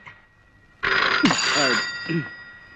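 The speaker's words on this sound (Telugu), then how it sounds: "వెళ్ళి ఆ గదిలో ఫోన్ తీసుకో" A telephone bell rings steadily and loudly in a scene from a Telugu comedy film, starting after a quiet moment, with voices talking over the ringing.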